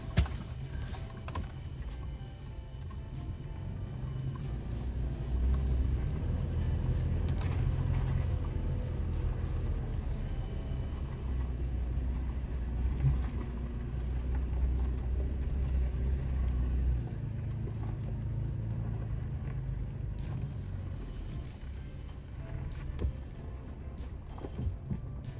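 Armored off-road truck grinding slowly up a rocky uphill trail in an OHV trail area, a steady close engine rumble with low drivetrain drone and occasional rock knocks, no talking.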